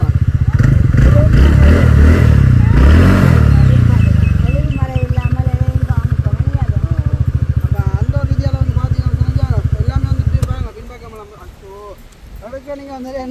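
A new motorcycle starts and idles close by, its engine running with a loud, steady rapid chugging for several seconds before dropping to a quieter idle, with people talking over it.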